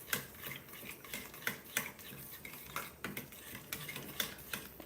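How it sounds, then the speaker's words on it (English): A spoon stirs Greek yogurt into rajma masala, producing faint, irregular clinks and scrapes against the pot at a steady, unhurried pace, with no voices heard. "Stir it really well so that they don't get lumpy."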